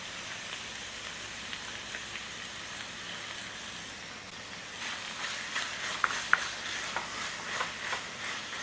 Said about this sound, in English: Ketchup goes in.